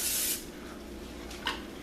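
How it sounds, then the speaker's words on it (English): Olive oil cooking spray misted onto a glass baking pan: one loud hissing burst up close, followed by a quieter short spritz a moment later. "And I'm using an olive oil spray."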